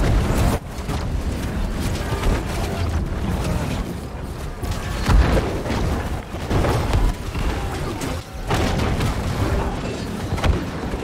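Cannon fire in a large New World video game war battle, repeated heavy booms and mechanical creaks layered over a dense, continuous roar of combat.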